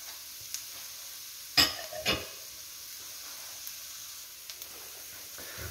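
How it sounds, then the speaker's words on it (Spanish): Ground beef frying with garlic, onion and bell pepper for a vol-au-vent filling gives a faint, continuous sizzle, broken by two brief louder bursts of stirring and a few small clicks. "ya que ha pasado unos 3 minutos sofriéndose con el ajo, la cebolla y el chile pimiento"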